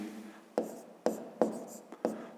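A pen writes numbers by hand on paper in four or five short scratchy strokes, close and quiet, with brief pauses between them.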